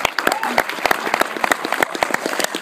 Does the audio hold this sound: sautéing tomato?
no